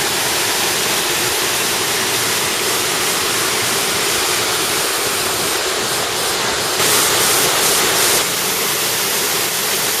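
A waterfall in wooded waterfall country pours steadily, a dense, continuous broadband roar that stays loud and unbroken throughout, with no voices over it.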